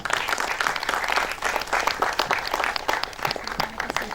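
Lively applause from a film festival audience for a session moderator, dense clapping with distinct individual claps standing out, loud and steady throughout.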